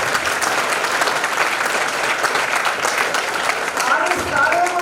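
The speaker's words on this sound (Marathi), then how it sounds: "त्यांच्यासाठी एकदा टाळ्या वाजवा" An audience at a felicitation ceremony bursts into sustained applause, a loud, even wash of many hands clapping that carries on for the whole stretch without pause.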